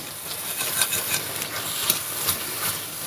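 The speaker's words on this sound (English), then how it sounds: "Turn it down a little bit if it's boiling over." Bolognese meat sauce bubbling in a pan, giving a steady close hiss and sizzle with small soft pops and crackles scattered throughout, no voices.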